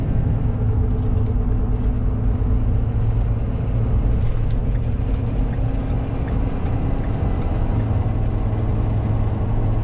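A truck cruising on a highway after a hay delivery in New Jersey, heard from inside as a steady loud engine and road rumble with continuous tire roar and no talk.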